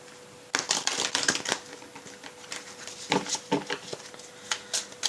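Tarot cards shuffled by hand for a September Pisces reading, quick bursts of dry riffling clicks and taps in uneven clusters, close and moderately loud, with no talking.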